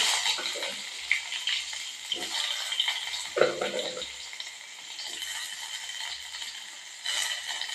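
Cumin seeds and onion frying in oil in a pan for tomato gojju, a continuous crackling sizzle with occasional louder bursts and scraping stirs, close and steady with no talking.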